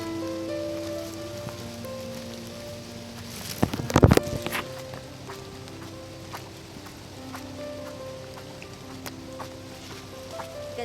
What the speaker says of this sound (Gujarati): વરસાદ શરૂ છે ને એટલે જાદુ બનીને જવું પડે છે